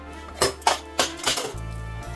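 A spoon clatters and scrapes against a metal pot while chilli and turmeric powder are mixed for veg biryani, several sharp clinks in quick succession followed by a low steady hum, close and clear with no talk.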